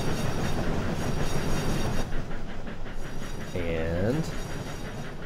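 A steam train in the Trainz video game rolls steadily with rhythmic clickety-clack from its wheels, a brief rising whistle-like squeal near the end, and someone talking over it.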